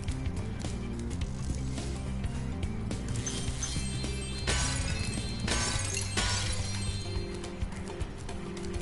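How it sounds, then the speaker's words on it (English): A clay pot smashed in Spyro the Dragon 2 bursts with a couple of bright, crackling shatters over steady game music. "I'm smashing the pot."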